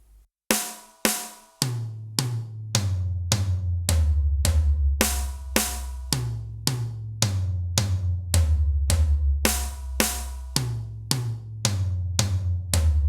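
Drum kit with the right hand playing a steady eighth-note pattern, counted one-and-two-and through four, with evenly spaced sharp hits over a sustained low drum resonance, close and alone.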